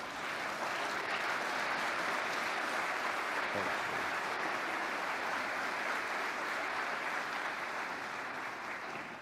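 A convocation audience claps for new faculty and staff, a dense, continuous round of applause filling the hall at a steady level for several seconds.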